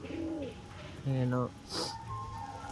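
Domestic pigeons give a few soft, low cooing calls, near but faint, mixed with a person speaking in the background.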